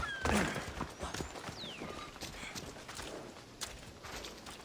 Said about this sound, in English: The horse. It's also a stolen horse.